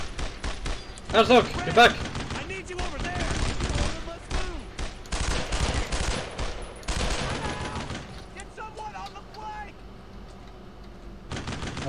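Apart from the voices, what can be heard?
machine gun fire in the video game Brothers in Arms: Road to Hill 30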